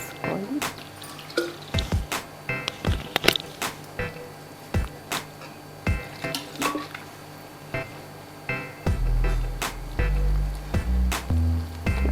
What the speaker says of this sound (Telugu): కొంచెం వాటర్ యాడ్ చేసుకోవాలి